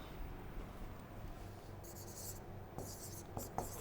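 Chalk or marker strokes on a board during an English grammar lesson, soft scratchy bursts coming in short separated sweeps, faint and close in a quiet room.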